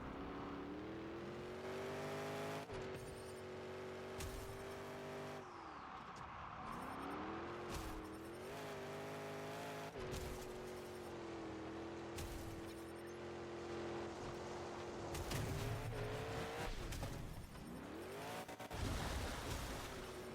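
Monster trucks roar in the Monster Jam Showdown video game, engines revving and shifting pitch steadily with skids and boosts on a dirt track, a continuous droning motor sound with no speech.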